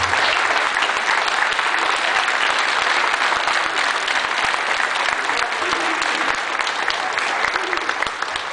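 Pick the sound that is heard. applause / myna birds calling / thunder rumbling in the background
applause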